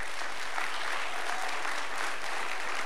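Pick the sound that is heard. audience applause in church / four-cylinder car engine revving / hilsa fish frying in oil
audience applause in church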